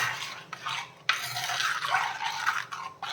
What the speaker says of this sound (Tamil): இது எல்லாத்தையுமா சேர்த்து நல்லா கிளறி விட்டுப்போம்